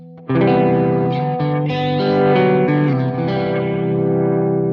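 Electric guitar through a Quad Cortex flanger set to a triangle waveform, a distorted sustained chord sweeping up and down in a smooth whooshing cycle, loud and close with no voices.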